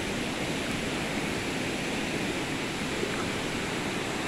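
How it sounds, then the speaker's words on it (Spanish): A river swollen after rain rushes past in a dense, steady roar of churning water, loud and continuous without any voices. "Después de las lluvias, el río pues se crece"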